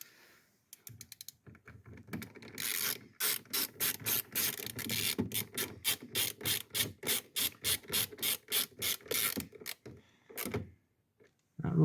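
A ratchet drives the door panel screws back in on a 2002 Ford Windstar, its rapid clicking coming in a long run of short bursts with brief pauses between strokes, close and crisp, with no talking.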